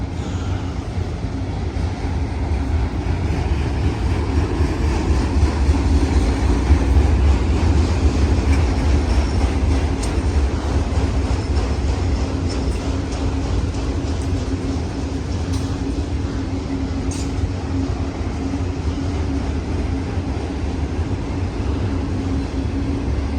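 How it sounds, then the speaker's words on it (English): A Union Pacific auto rack freight train rolls past near the Reno Amtrak station in Nevada, a steady loud rumble with low drone and faint wheel clatter throughout, no voices. "here comes the end of the train."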